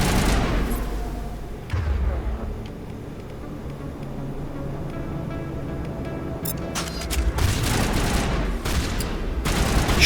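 Combat in the video game Mass Effect brings bursts of rapid gunfire and sharp shots, loudest at the start and picking up again near the end, with steady background battle noise in between.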